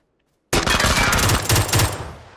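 Rapid automatic gunfire from a video game erupts after half a second of silence, a loud, dense burst of overlapping shots that continues steadily for about two seconds before easing slightly.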